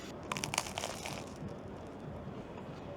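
Biting into crispy griddled sourdough toast with plenty of butter at a London breakfast spot: a few sharp, close crunches in the first second and a half, then a quieter chewing tail.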